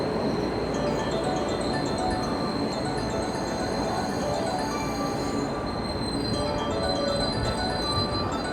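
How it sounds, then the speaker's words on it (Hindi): A train pulls into a station in Japan on a line bound for Osaka, its wheels squealing in a steady, loud, high metallic whine over continuous rumbling for the whole stretch, with no voices. "ट्रेन भी आ चुका है।"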